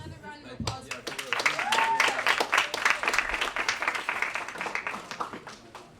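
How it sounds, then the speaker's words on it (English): Audience applause at a 2019 publication celebration event, a broad round of clapping that swells after the first second and holds steady, fairly loud, with brief voices mixed into the crowd noise. "Let's have another round of applause."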